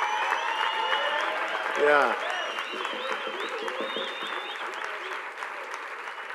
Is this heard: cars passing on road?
no